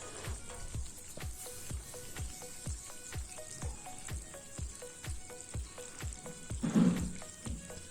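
Chopped onion, a large one, frying in a pan for masala chicken, a steady soft sizzle broken by repeated sharp clicks and taps of stirring, close and moderately loud with no voices.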